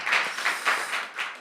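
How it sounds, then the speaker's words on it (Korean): A church congregation applauds in thanks and praise, a steady wash of many hands clapping together that swells and eases in waves, fairly loud and close with no one speaking over it. "삼위일체 하나님께 먼저 감사와 찬양의 박수로 올려드립시다"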